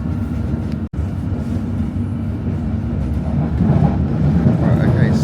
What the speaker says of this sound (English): today we're going to take the metropolitan line all the way up to Watford